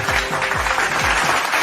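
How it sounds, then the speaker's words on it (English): Steady applause from a youth forum audience, dense clapping that fills the whole stretch at an even, fairly loud level with no voices on top. "A round of applause, please."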